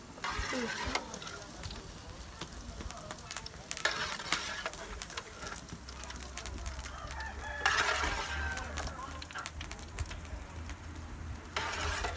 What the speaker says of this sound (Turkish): Şimdi soğanlar kavruldu